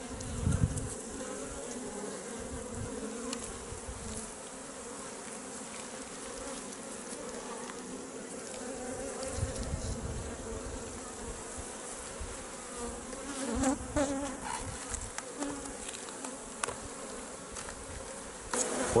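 Honeybees drone in a dense, steady buzz from an opened beehive, close and continuous, with a few handling knocks and rustles now and then.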